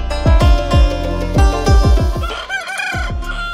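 Roosters crow and chickens cluck at Tongi bird market, a busy Sunday poultry and bird bazaar, with several loud overlapping crows in quick succession and no talk over them.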